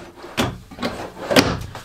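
Drawers in the bathroom of a 2020 Keystone Montana 3854BR fifth-wheel RV being opened and shut, several short knocks and slides spaced about a second apart, close and moderately loud.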